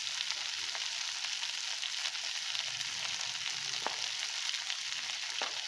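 Black urad dal sundal with grated coconut stirred in a pan, a steady soft sizzle with faint scraping strokes, alone and fairly quiet.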